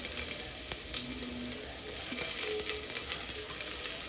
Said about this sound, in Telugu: అది బాగా వేడెక్కిన తర్వాత ఉల్లిగడ్డలు వేసి బ్రౌన్ కలర్లో వచ్చే వరకు